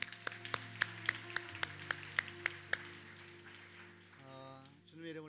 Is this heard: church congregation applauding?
yes